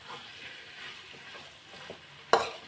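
A spoon stirs jaggery into a sweet-sour custard apple mixture in a pan, giving soft scraping strokes over a faint sizzle, ending with one sharp clink near the end.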